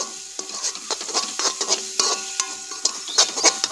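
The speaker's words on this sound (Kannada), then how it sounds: "ಆಮೇಲೆ ಕಡಿಕೆ ಇದೊಂದು ಸ್ವಲ್ಪ ಮತ್ತೆ ಫ್ರೈ ಮಾಡ್ಕೊಳ್ಕೊ, ಸಮ ಮಾಡಿ ಫ್ರೈ ಮಾಡಿದ್ರೆ ಒಳ್ಳೆ ಟೇಸ್ಟ್ ಬರುತ್ತೆ" Crab masala fries in a pan while a spoon stirs and scrapes it repeatedly, producing close, rhythmic scraping strokes over a soft sizzle, with no talking.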